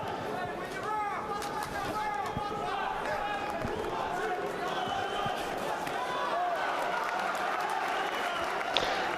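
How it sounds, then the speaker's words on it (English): Boxing crowd at a heavyweight bout cheers and applauds continuously, a steady roar of distant voices and clapping with some shouting mixed in. "the crowd getting behind Sam's effort here"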